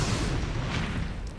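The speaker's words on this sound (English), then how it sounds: "the Holy Cross Church blew up at exactly 7:35 p.m." An animated church explosion: a sustained, loud, rumbling roar with dense low-end boom that stays heavy throughout, without any voices.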